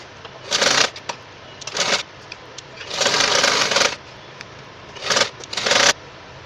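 A sewing machine stitches a dart on a belt blouse in short bursts of rapid, close mechanical whirring, with brief pauses in between and one longer run in the middle.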